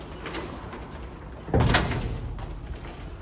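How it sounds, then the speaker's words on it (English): A rattling, knocking burst from a door rattling in the wind midway through, over steady windy background noise; a couple of softer knocks follow. "I hope you can hear me over the noise of the door rattling"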